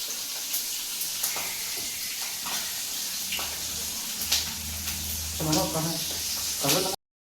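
Green chillies dipped in gram-flour batter crackle and sizzle in hot oil while mirchi bhajiya fry, a steady close hiss with small popping bursts, under someone talking.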